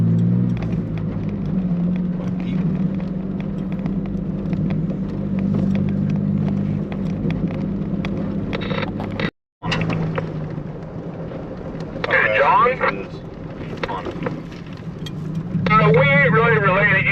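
A car rolling along a gravel backroad in Appalachia, a continuous low engine rumble and crunching tire noise close by, with a brief dropout midway and people talking over it near the end.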